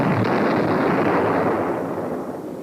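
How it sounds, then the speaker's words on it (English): A napalm attack on a simulated missile guidance control van erupts as a loud, broad roaring blast that rumbles on for a couple of seconds and slowly fades, with no talking. "cameras are run at high speed to record spectacular events like this napalm attack on a simulated Cuban Missile Guidance Control van"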